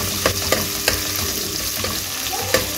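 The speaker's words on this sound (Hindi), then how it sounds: "घी गर्म हो गया, इसके अंदर हम डालेंगे 1 टेबल स्पून लहसुन अदरक" A steady crackling sizzle of garlic and ginger frying in hot ghee, with occasional clinks and scrapes of a spoon stirring in the pan.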